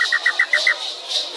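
A Pataxó jiquitaiá whistle imitates the iambu bird's call, giving a quick run of about six short, bright, evenly spaced whistled notes followed by softer tones, close and clear.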